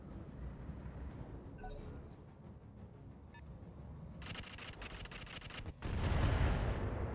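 An artillery barrage in the RogueTech BattleTech video game: a rumbling roll of distant impacts builds, then a heavier, louder boom near the end, with no talk.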